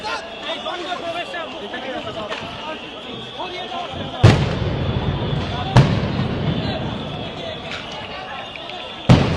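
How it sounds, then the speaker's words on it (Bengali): Police sound grenades go off one after another at a pay-scale protest near a city entrance, three sharp, loud booms standing out over a constant crowd roar and shouting. "একের পর এক সাউন্ড গ্রেনেড নিক্ষেপ করছিল পুলিশ সদস্যরা"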